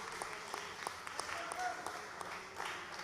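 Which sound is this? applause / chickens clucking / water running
applause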